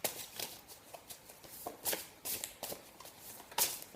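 Tarot cards riffled and handled close by in a series of soft, quick papery flicks and taps, fairly faint, with no talking over them.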